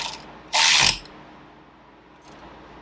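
A ratchet tightens a wheel bolt on a 2014 Kawasaki Z1000 motorcycle: one loud, close burst of rapid clicking lasting under half a second, then near quiet with a faint click later.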